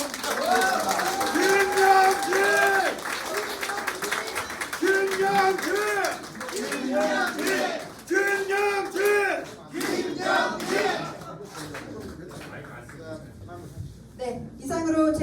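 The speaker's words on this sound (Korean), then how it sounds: "다시 한번 뜨거운 박수 좀 부탁드리겠습니다" A crowd at a candidacy press conference for the 22nd National Assembly election in Jeju cheers and chants in loud rhythmic bursts of massed voices, near and lively, then breaks into scattered shouts and clatter.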